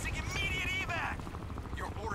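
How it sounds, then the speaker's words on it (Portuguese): A helicopter in the shooter game Crysis 2 gives a steady low rotor rumble with some higher whine, running throughout under someone talking close to the microphone. "Olha lá o helicóptero."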